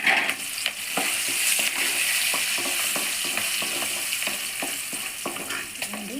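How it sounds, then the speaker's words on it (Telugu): Cashews, green chillies and curry leaves fry in hot oil alongside peanuts, with a steady close sizzle broken by regular scraping strokes of a spatula stirring the pan. "ఇప్పుడు జీడిపప్పు పచ్చిమిర్చి మిక్స్ చేస్తున్నా కరివేపాకు"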